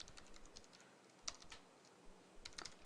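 Typing of C++ code on a computer keyboard, with quiet irregular key clicks in short bursts and a louder cluster near the end, close and alone in a silent room.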